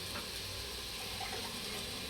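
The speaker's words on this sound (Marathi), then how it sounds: "पाणी टाकत आहे मी आणि ते पण गरम केलेलं पाणी आहे" Hot water is poured steadily into mutton chaap cooking in a pot, a continuous close gushing splash with no talk.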